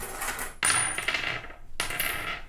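Coins drop and clatter during a tabletop Dungeons & Dragons game, in two close, bright metallic bursts of jingling that ring out, with no talking.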